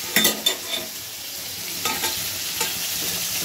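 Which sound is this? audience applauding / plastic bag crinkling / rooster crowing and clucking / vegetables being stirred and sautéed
vegetables being stirred and sautéed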